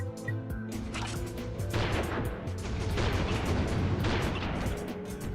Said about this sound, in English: Oh, that's a sniper rifle.